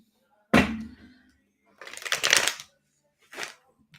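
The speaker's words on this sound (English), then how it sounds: "But I could shuffle these motherfuckers." Cards snap and riffle in a few short bursts, one sharp flick followed by a longer shuffle and a brief final riffle, close and otherwise quiet.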